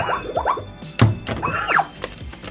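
A plastic spinning game bottle bangs and clatters around, giving a loud thunk followed by irregular knocks, while voices chatter over it.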